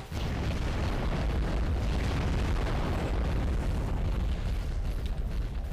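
Explosion in the underwater game Aquanox, a continuous heavy rumbling boom with dense low-end roar that stays steady and loud across the whole stretch, with no voices.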